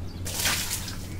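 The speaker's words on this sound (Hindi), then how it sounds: "तो पानी को फेंकते हैं गुरु" One brief, close splash of water being flung out, a single whooshing burst lasting under a second over a low background hum.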